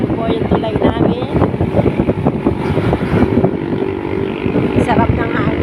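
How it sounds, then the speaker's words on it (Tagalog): Cold wind buffets a microphone near a bridge in a steady rushing rumble while a person talks nearby throughout. "Sarap ng hangin po, super lamig."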